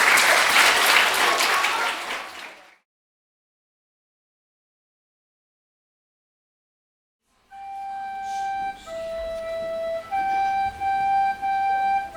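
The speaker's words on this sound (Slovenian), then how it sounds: "En aplavz za vaše prijatelje z vrtca" Applause from an audience at a regional children's theatre festival breaks out loudly, cuts to silence, then returns more faintly with musical tones over it.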